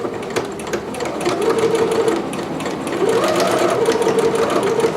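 A sewing machine backstitches over the straps of a McCall's 6701 dress, running in steady, close bursts of rapid stitching with short pauses between them and no talk.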